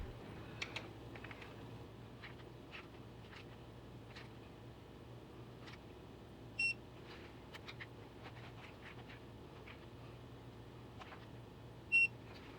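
A torque wrench tightens the water pump bolts on a 2015 Toyota Tundra 4.6L V8 to 15 foot-pounds, giving faint, scattered ratcheting ticks and two short, clear beeps several seconds apart.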